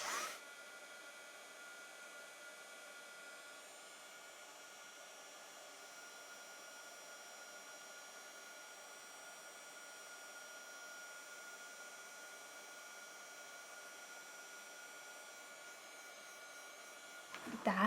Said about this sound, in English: I'm going to make sure that my heat tool is very hot